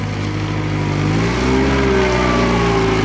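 A car engine running steadily while the car reverses straight back during a driving lesson, a loud, close, continuous drone with the engine pitch rising slightly midway as it revs.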